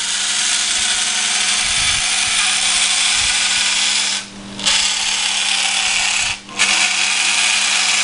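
Small electric motor of a radio-controlled Conveyancer fork lift truck whining steadily while reversing, close and fairly loud, with two brief dips where it stops and restarts.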